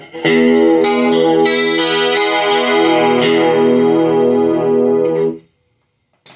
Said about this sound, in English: We got our analog.